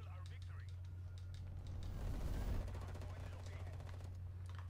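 Rapid automatic gunfire from the video game Black Ops Cold War on the Satellite map, steady bursts and single shots running throughout beneath a low engine-like hum, with a player talking over it.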